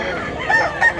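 Rooster at a Cebuano chicken seller's stall, a gray bird about a year old, giving short strained crow-like calls that swell twice within a second, loud and close against a busy background.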